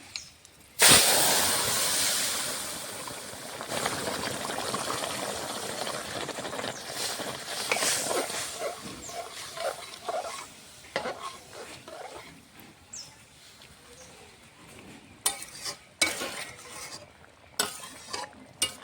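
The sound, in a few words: vegetable curry poured into hot tempering, sizzling and stirred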